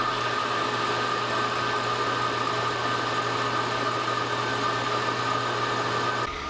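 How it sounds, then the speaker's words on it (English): A belt sander flattens cured epoxy on a wooden log, giving a continuous, even motor drone with a steady abrasive hiss, close and unbroken until it cuts off at the end. "I'll just peel off the tape and then flatten that epoxy on the belt sander."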